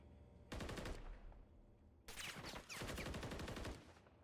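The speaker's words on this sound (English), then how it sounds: "Xander sending some rounds down the road towards him" Automatic rifle fire in Call of Duty Modern Warfare III, a competitive match: two close, sharp bursts of rapid rounds, the second longer and broken by a brief pause, heard alone against quiet.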